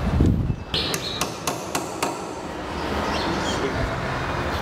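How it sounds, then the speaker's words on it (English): A hammer drives a marker nail into a roof rafter during roof gauging, giving about six sharp, ringing blows in a quick uneven series, followed by quieter background noise. "then put another marker nail in place"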